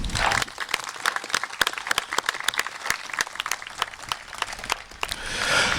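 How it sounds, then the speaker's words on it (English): An outdoor crowd at a Memorial Day service and parade in Dunkirk, New York applauds, with sharp individual claps standing out in a moderately dense round that swells again near the end. "Could we please give him a round of applause?"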